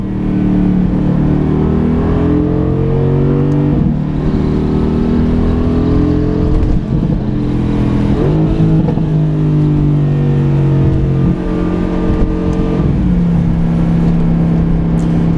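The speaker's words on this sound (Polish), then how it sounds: "posłuchasz, jak hałasuje przy redukcji" A Mercedes AMG GTS engine drones loudly and close while downshifting, its pitch dropping repeatedly in short steps with sharp blips between the gears and a constant rumble underneath.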